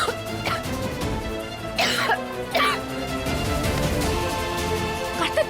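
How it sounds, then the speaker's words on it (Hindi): A woman coughs hard in several loud, harsh bursts, with a few separate coughs spaced out over a steady background hum. "अब खांसी रुकी नहीं रही है और इसकी आवाज भी चली गई है।"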